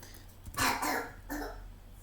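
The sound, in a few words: cough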